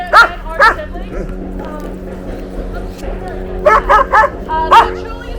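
Sled dogs of a team in Fairbanks, Alaska bark and yip in short repeated outbursts, loud and close, with a steady low background hum between the barks.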